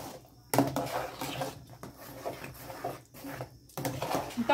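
Corn batter is stirred in a pot with a utensil, giving continuous scraping and knocking with uneven bursts and brief pauses, close and fairly loud.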